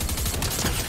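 Rapid automatic gunfire in Fortnite as trees are shot down, a dense, continuous burst of shots close up with no talking over it.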